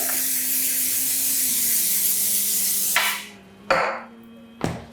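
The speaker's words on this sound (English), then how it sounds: "I'm just going to get my pan, my baking tray, spray and cook." Spray and Cook cooking spray hisses onto a baking tray in one long continuous burst, then in two short sharp spurts, close and clear with a faint hum behind.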